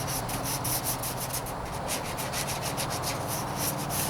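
Steady, continuous rubbing of wet sandpaper across the white-painted hood of a 1998 Toyota Corolla, close and even in rhythm with repeated back-and-forth strokes, no voices.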